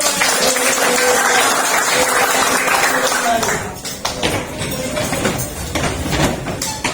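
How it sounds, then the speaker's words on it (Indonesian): A classroom of students claps on cue for a few seconds, a dense patter of hands that thins into scattered taps and murmuring voices toward the end. "Oke, semuanya udah bagus, tepuk tangan."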